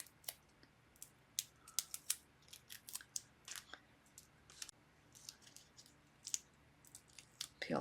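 Scissors cutting foam for a birthday card, a quiet, close series of sharp snips in an irregular rhythm with soft handling noises between them.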